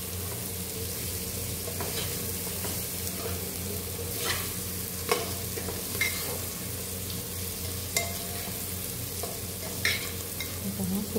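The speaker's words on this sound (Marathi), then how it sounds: "तर ह्याला छानपैकी आपण मिक्स करून घेऊया" Soyabean pulao stirred in a frying pan: steady sizzle of frying with repeated scraping, clattering strokes of a spoon against the pan, close and continuous throughout with no talking.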